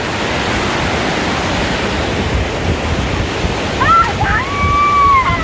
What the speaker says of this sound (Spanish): Miren muchachos, el río.